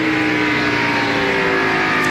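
NASCAR Winston Cup stock cars roar around the Phoenix International Raceway track, a sustained loud engine drone with steady tonal whine and no break across the whole moment.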